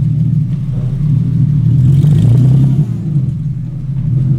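A BMW E30 with an S52 engine and open headers on a test drive produces a deep, close engine rumble that swells under throttle and eases off, heard from inside the car.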